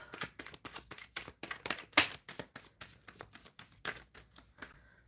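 Rapid, crisp tarot card shuffling in repeated bursts, close by, with one sharper riffle snap partway through.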